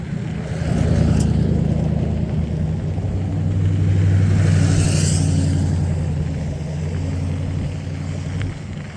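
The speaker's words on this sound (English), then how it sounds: "Oh, got a car coming." Cars pass on a road beside a mountain bike trail, their low tyre-and-engine rumble swelling and fading continuously at moderate distance.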